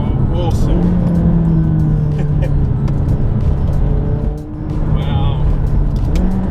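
A 2016 McLaren 570S sports car engine drones steadily under acceleration from inside the cabin, with a slight dip and recovery midway, while someone talks over it.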